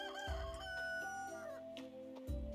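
A rooster crows in the Roots of Pacha farming video game, a loud drawn-out cock-a-doodle-doo over layered game music, followed by a second short crow at the end.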